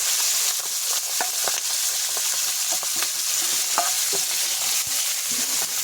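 Goat meat frying and sizzling in hot oil with cumin seeds in a kadai, stirred with scattered spoon scrapes and clinks over a steady close sizzle, no talking.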